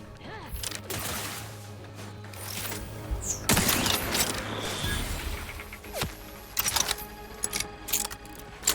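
Gunfire in the video game The Outer Worlds 2 crackles in dense clusters of sharp shots and metallic impacts, with a heavy burst midway and scattered cracks later, loud and close over game ambience.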